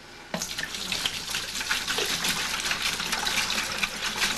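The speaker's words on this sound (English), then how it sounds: "take our chilled distilled water out of our ice bath. So this is 3 gallons here. We'll put it into our fermentation bucket." Three gallons of chilled distilled water pour into a plastic fermentation bucket, a steady splashing gush that starts abruptly and continues close and unbroken.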